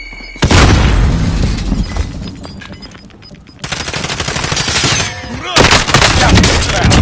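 A frag grenade blast and heavy gunfire in Warzone fill the clip, loud and nearly continuous, with booming impacts and rapid shots that dip briefly midway before surging again.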